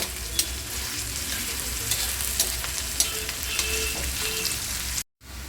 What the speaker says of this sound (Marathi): गॅस चालू केलाय आहे त्यामध्ये तव्यामध्ये आपण कांदा टाकलेला आहे भाजायला